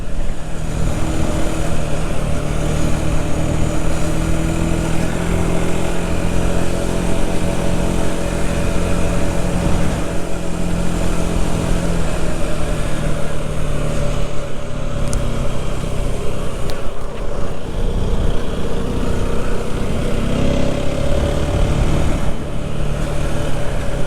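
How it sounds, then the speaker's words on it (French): Rieju Century 125 motorcycle engine while riding, after the end of running-in, on a French departmental road: a steady, loud mid-pitched drone with wind rush, continuous throughout with no talk. "c'est génial de rouler en Century"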